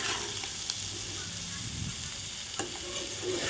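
Thin-cut spiny gourd pieces sizzle and crackle in a hot pan, stirred slowly with a spatula, giving a dense, even frying hiss with occasional scraping clicks and no voices.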